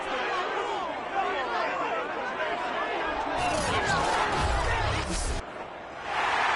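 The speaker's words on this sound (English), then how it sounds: "Plenty of shouts from this crowd as they watch the replay" A large stadium crowd at an NFL football game between the Lions and Washington roars and shouts while watching a replay, a dense steady wall of crowd noise, loud and continuous, with a heavier rumble and burst of yelling midway.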